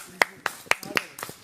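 A few sparse, sharp hand claps from a small audience at a family talk show, five or six separated hits, fairly quiet and thin rather than a full ovation.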